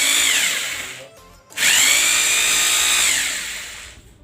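A cheap Tiger hammer drill running loud and close, whining steadily, briefly slowing and dropping off around the middle, then spinning back up to full speed and holding, with no talk.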